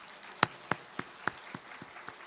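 Scattered handclaps from a church congregation during a Sunday sermon, about eight sharp separate claps spread unevenly over two seconds, moderately close with no voices.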